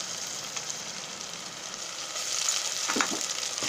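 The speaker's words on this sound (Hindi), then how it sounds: "अब हम इसमें जिंजर गार्लिक पेस्ट डालेंगे।" Ginger garlic paste sizzles in a hot pan for a chicken curry, a steady crackling hiss that grows a little louder toward the end, with no voices.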